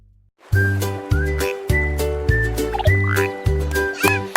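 Frogs croaking in a children's song, a run of rhythmic croak-like tones over a bright tinkling, whistly musical backing, steady and upfront with no voices.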